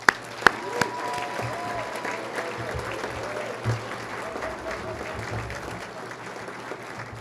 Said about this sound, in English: let's please recognize our honorees one more time with a warm round of applause